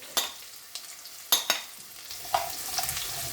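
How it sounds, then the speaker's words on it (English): Chopped garlic hits a hot pan of whole spices for a king prawn curry, a soft close sizzle with a few sharp scraping stirs and clinks of a utensil, no talk. "I'm going to add the chopped garlic."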